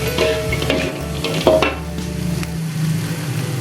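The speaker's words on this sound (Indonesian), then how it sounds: "Kita aduk-aduk." Fried chicken pieces are stirred in a sizzling pan with salted chili, a spatula scraping and knocking against the pan over a continuous frying hiss.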